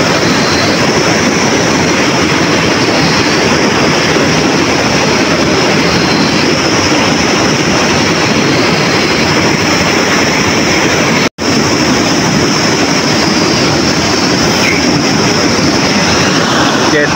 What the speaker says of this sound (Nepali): खोलाको आवाजले पनि केही सुनिरहेको छैन होला